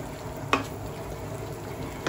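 Spice paste for egg curry stir-frying in a pan, a soft low sizzle with one sharp scrape or clink near the start and a faint knock at the end, quiet and close with no voices.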